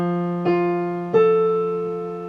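On a piano, a measure of a piece sounds over a sustained low note: two soft struck notes about half a second apart, each left ringing into a slow decay, close and unaccompanied.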